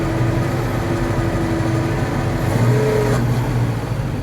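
Engine of a 1967 Ford F600 truck revving with the PTO engaged to raise the dump bed, a steady low rumbling drone that rises in pitch briefly midway, close and continuous.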